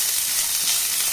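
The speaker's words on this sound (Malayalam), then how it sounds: "ഇനി ഞാനൊരു 2 സ്പൂണ് തേങ്ങ ചെറിയതും കൂടിയും ചേർത്ത് നമുക്കൊന്ന് വറുത്തെടുക്കാം" Grated coconut and curry leaves roast in a hot pan with a steady, even sizzle and faint crackle, close and uninterrupted for a brief moment.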